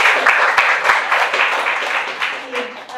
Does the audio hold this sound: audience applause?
yes